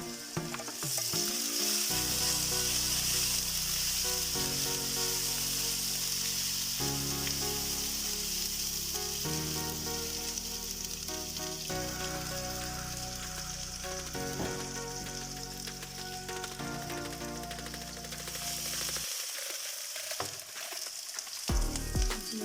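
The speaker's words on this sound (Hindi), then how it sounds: "तो ये लहसुन अदरक भी फ्राई हो गया है" Garlic ginger paste fries in a pan with a loud, continuous sizzle and crackle, broken by occasional stirring scrapes. The sizzle briefly drops out near the end and then resumes.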